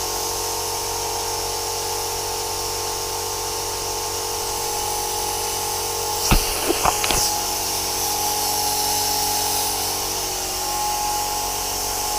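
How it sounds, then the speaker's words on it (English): Air blown over a fresh coat of paint to dry it between coats on a warm day, a loud constant blower hiss throughout with a few short clicks and knocks midway. "I'm just going to blow a bit of air over that between coats"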